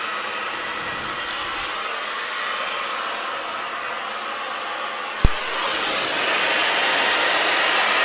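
A hair dryer blows steadily close by while hair is being dried and rolled with a brush, a constant loud rushing whoosh with a couple of faint clicks and one sharp knock.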